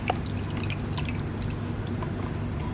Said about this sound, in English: You can twist it, turn it around to slow the water flow